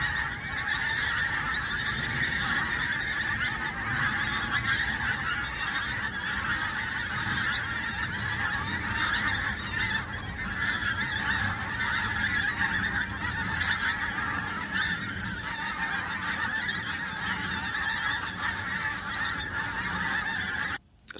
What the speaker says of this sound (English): not just the pink-footed geese that we spoke about earlier